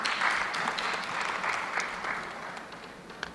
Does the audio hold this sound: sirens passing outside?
no